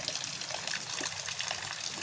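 Rainwater runs steadily along a hand-dug drainage canal beside a bitter gourd patch, a constant close trickling and gushing wash with no pauses and no voices.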